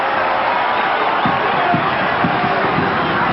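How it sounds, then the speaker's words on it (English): A South Sydney Rabbitohs crowd at a 1989 rugby league match against Balmain Tigers roars steadily and loudly, a dense wall of voices with scattered shouts and cheers rising through it. "Crowd starting to get vocal too."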